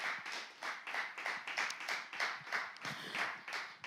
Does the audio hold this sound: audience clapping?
yes